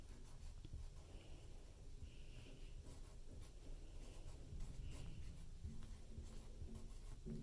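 Pen or pencil writing a name by hand on paper during a math lesson, a faint continuous scratching and rubbing close up over low background noise, with no talking.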